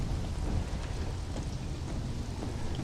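Steady rain and a dull rumble of thunder from a storm in the survival game Conan Exiles, a continuous broadband wash with no talk over it.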